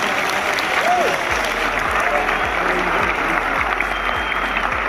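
Theatre audience applause at an Ajoka Theatre performance in Pakistan, a dense continuous wash of many hands clapping, steady and loud for the whole stretch, with a soft low rhythmic thump and a brief voice underneath.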